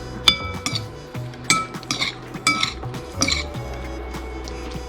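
Ripe avocado cubes being mixed in a bowl, giving repeated close clinks and scrapes of a utensil against the dish in irregular bursts, with no talking.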